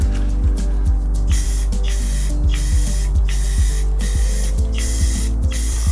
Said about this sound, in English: the black sprays on a lot smoother than the gray